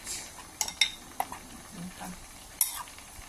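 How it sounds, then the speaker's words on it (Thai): Tamarind pulp being mashed with hot curry broth in a bowl: a few sharp, brief clinks and scrapes of a utensil against the bowl over a low, steady background hiss. "ตักน้ำแกงใส่ในมะขามเปียกนะคะ ก็บี้บี้ค่ะ"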